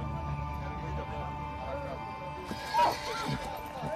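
Horses used in combat in Afghanistan whinny and neigh in a noisy outdoor scene, with faint hoof clip-clops and a steady background hum, heard at moderate distance.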